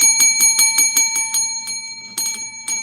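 A small metal bell is tapped quickly in a burst of about seven bright ringing strikes, then a short pause and a few more taps, each note ringing clearly and close.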